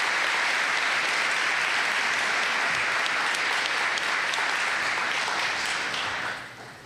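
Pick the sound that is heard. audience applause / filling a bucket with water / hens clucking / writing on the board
audience applause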